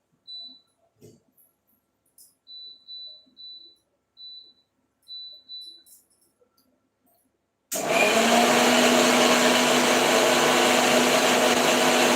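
Mixer grinder blending garlic paste switches on abruptly after a near-silent stretch, then runs as a loud, steady, close whirring roar for several seconds with no talk.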